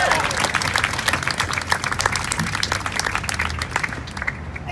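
A crowd at a unity march claps and cheers for an animal-welfare group, a dense, continuous patter of applause with some voices mixed in, fading slightly toward the end.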